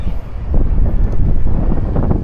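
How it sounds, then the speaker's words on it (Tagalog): Wind gusting steadily across an open rooftop, a broad low rumble with rough buffeting against the microphone, continuous and fairly loud throughout. "Pasok na pasok yung hangin eh."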